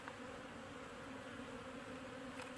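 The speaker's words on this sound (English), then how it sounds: "And there's a lot of bees down in there." Honey bees humming inside a hive box being readied for winter, a steady, dense, quiet drone throughout, close up and with no voices.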